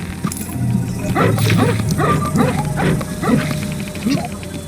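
Cartoon dog barking in the Lego Harry Potter Years 1-4 video game, a run of repeated yips and barks across the clip, mixed with game music and other sounds.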